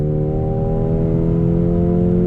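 A 2021 Mercedes-AMG GLA 35 SUV engine with 8-speed DCT revs hard under throttle, a loud steady growl with strong low harmonics holding for a couple of seconds, close up.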